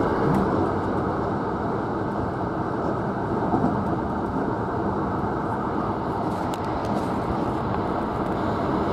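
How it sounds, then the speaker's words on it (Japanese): A Hankyu Kyoto Main Line limited express train runs through a station, a steady low rumble of wheels and motors rolling continuously without pause. "列車は南方駅を通過します。"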